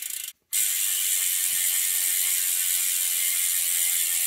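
A bicycle rear wheel hub ratchet spins freely, giving a continuous, loud, even buzzing click after a brief gap near the start, close up with no talking.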